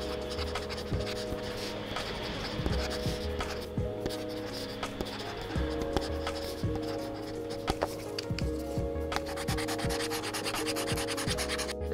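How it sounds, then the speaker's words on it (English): A Kindle Scribe premium pen writing on the screen gives a soft, papery scratching and rubbing, continuous strokes with brief pauses, close and steady, over a low background hum with no talk. "And then you can kind of almost hear when you write."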